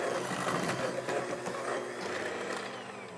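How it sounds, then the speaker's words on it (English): An electric hand mixer creams butter and sugar for chewy chocolate cookies, giving a steady, close whirring drone that runs unbroken and fades slightly toward the end. "I just always grab my hand mixer."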